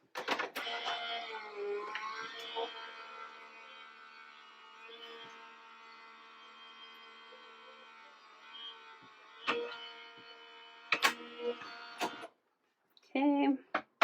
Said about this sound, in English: So I'm using my Sizzix Big Shot Switch, which is an electric one, so excuse the noise for a minute.